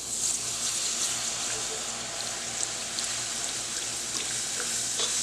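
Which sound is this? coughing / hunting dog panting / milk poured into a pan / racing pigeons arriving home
milk poured into a pan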